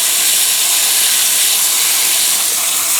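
Water from a small hose floods pots of wet sand holding bulbs, giving a loud, steady broadband hiss that stays constant throughout with no other sounds.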